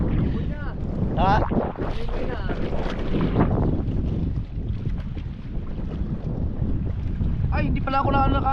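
Strong wind blows across open water around a boat, roaring and buffeting the microphone in a constant loud rush while people talk over it.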